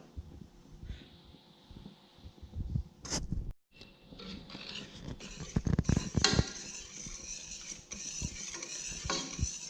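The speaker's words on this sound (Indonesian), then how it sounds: "Lalu aduk hingga rata dan tunggu hingga mendidih dan mengental" A spoon stirs a thickening mixture in a pot, with scraping and clinking against the metal, uneven and close under faint background noise.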